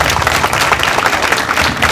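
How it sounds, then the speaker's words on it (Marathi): A crowd at a political gathering in Maharashtra claps loudly for President Droupadi Murmu, a short, thick, continuous burst of applause close by. "एकदा द्रौपदी मुर्मू साठी टाळ्या वाजवा."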